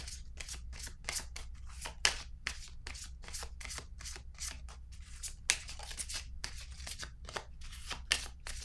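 Tarot cards slap and riffle in quick, steady repeated flicks, close and soft, as a deck is shuffled and drawn from in a quiet room.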